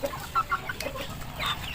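A chicken suffering from a cold and cough clucks in a few short, close bursts over a faint background hum.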